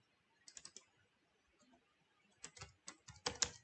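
Typing on a computer keyboard in short bursts of quick, faint clicks with pauses between, heard close and quiet with no talking.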